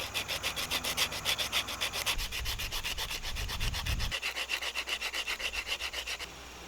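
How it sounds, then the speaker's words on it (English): Rhythmic hand sanding of barn wood revolver grips with 80 grit sandpaper, fast regular back-and-forth rasping strokes close up, continuing steadily before easing off near the end. "I'm going to get it roughed in with this, and then I'll do the final sanding with the 220."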